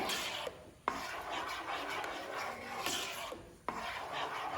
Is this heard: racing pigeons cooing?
no